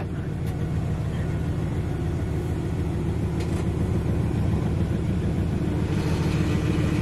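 Dodge Dakota R/T truck with a failing old transmission, the engine holding a steady rough mid-pitched rumble while it is revved trying to engage a gear, continuous and moderately loud.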